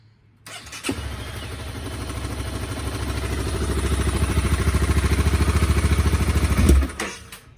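A Honda CBR250R motorcycle that has sat unused for five years cranks with the starter, turning over steadily with a rapid mechanical chugging that builds for several seconds before cutting off, close and loud.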